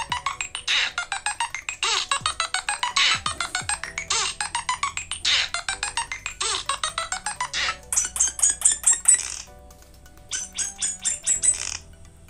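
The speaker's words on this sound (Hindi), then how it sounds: "यहाँ देखिए फ़ोन रिंगटोन" A loud Nothing Phone 1 ringtone plays a fast, rhythmic chirping pattern of repeated notes, continuing for several seconds with short gaps.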